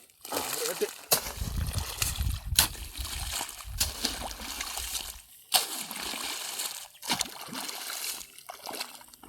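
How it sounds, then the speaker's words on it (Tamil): Water running through a freshly cut bank of a farm field channel, a steady splashing, sloshing flow heard close by with intermittent talk over it. "அடுத்தது தண்ணி போயிடுது பாருங்கள்."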